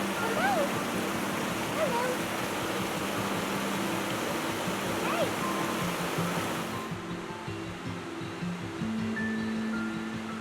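The Animas River in the Colorado mountains near Elk Creek Valley gives a steady, close rushing of flowing water that continues throughout, easing slightly near the end, with faint voice-like sounds in the background.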